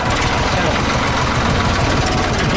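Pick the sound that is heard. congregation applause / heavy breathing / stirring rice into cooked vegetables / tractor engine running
tractor engine running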